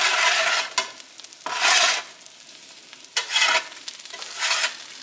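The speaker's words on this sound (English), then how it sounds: "So all I'm doing now is I'm just kind of scraping it up" Crisp okra frying in a pan, repeatedly scraped up and turned with a spatula, giving bursts of loud scraping and sizzling separated by quieter frying hiss, close and without talk.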